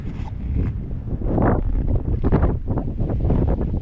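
Mountain wind blowing above the treeline, buffeting the microphone in low, rumbling gusts that rise and fall, steady and close with no voices.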